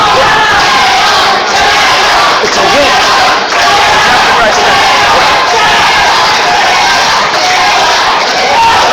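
A wrestling crowd at an independent Black Diamond Wrestling show roars and cheers loudly and steadily throughout, with a commentator talking over the noise.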